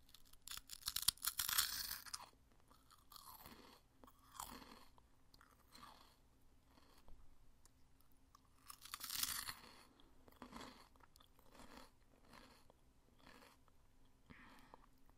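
Close-up crunching and chewing of light, crunchy blue cotton candy puff snacks from space, with bursts of loud crisp bites followed by quieter, rhythmic munching and no talking.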